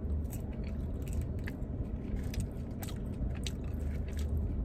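Crunchy chewing and biting of a vegan burger and crispy fries, close and fairly quiet, steady mouth sounds throughout with no talking.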